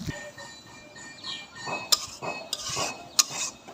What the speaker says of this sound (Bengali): হলুদ মরিচ দিয়ে আমি কষিয়ে নিছি